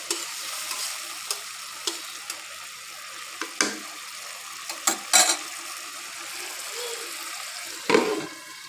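Small mixed river fish such as boicha, poya and tangra cook down in masala in a pan, giving a steady low sizzle broken by sharp spatula scrapes and clinks, one louder stir near the end.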